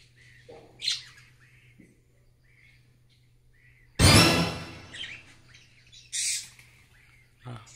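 Colasisi hanging parrots give short, high chirps and squawks in scattered bursts, with one louder, harsher outburst midway through.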